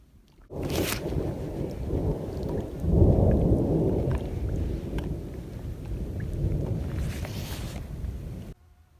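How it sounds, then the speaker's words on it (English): Hail pelts down in a dense, rushing clatter with heavier surges, like a storm overhead. No voices. "And now it's hailing."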